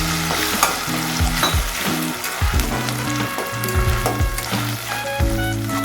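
Onion-garlic paste sizzles loudly in a hot frying pan for white liver curry, a dense continuous crackle with scraping stirs and knocks of the spoon recurring throughout, close and alone without talk.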